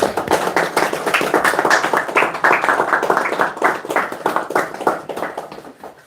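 A church congregation claps in a loose, steady rhythm, many hands striking together in repeated beats that hold for several seconds and soften slightly toward the end.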